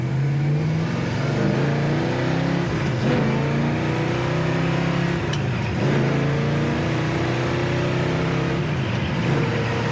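A 1965 Chevelle SS convertible with a 327 V8 and 4-speed manual pulls hard through the gears, the loud, close engine note climbing and dropping with each shift over steady exhaust rumble.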